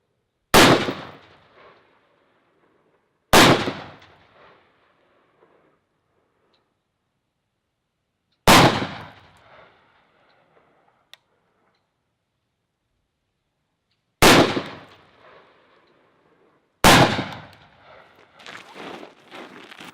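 Five loud, sharp gunshots ring out at an outdoor gun club shooting range, each a few seconds apart and followed by a brief decaying echo, with faint handling noise after the last.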